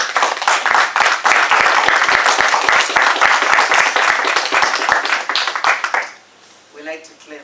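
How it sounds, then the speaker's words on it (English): Audience clapping at a Toastmasters meeting, a loud, dense burst of many hands applauding together that fades out after about six seconds, leaving brief quiet talk at the end. "We like to clap."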